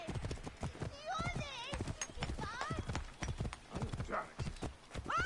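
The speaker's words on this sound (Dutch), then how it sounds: "Mooie paardjes." Horse hooves clip-clop steadily in Assassin's Creed Origins, a rapid rhythmic clatter close by with an occasional whinny, running under continuous speech and other game sounds.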